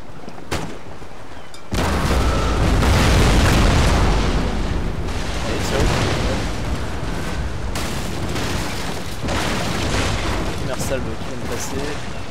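Heavy booming blasts roll in after a brief quiet start, a dense, sustained barrage of cannon fire from a row of cannons in Napoleon: Total War, with a voice talking in French over it.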